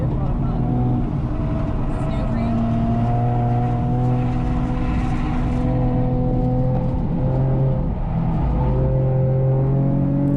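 Race car lapping the Thunder Hill 3 Mile circuit, engine loud and close in the cabin, its pitch climbing and falling through shifts in steady harmonic sweeps, with a voice speaking over it.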